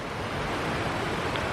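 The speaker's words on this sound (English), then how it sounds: "so got the creek right over here. That's Bubbs Creek." Bubbs Creek flowing beside a backcountry campsite in Kings Canyon National Park in the Sierra Nevada, a steady close rushing of water with an even, unbroken wash of noise and no voices.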